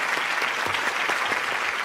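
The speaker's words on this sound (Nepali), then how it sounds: "म्युजिक टिमको लागि जोरदार ताली जाओस् प्लिज" An audience at a Nepali poetry competition show applauds the music team, with dense, steady clapping that stays loud and continuous throughout the short burst.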